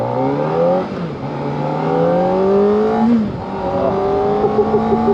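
Close engine sound from a Kawasaki ZX-4RR motorcycle ridden at quarter throttle, with rising pitch through the gears and smooth shifts, loud and continuous with no talking.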